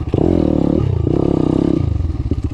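A Daytona 190 4-V pit bike engine, a tuned single-cylinder four-valve motor, throbs loudly and close as it is ridden, its pitch rising and dropping with throttle changes, with no talking over it.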